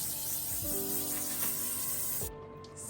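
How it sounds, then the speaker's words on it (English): Flawless IV Stay On Waterproof makeup finishing spray misted in a steady close hiss lasting a couple of seconds, then cutting off abruptly, leaving quiet room tone. "So now I'm just going to finish off my makeup with the Flawless IV Stay On Waterproof"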